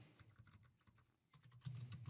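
Quiet, scattered keystrokes on a computer keyboard as user details are typed into a payment link form, with a low hum underneath and a slightly louder burst near the end.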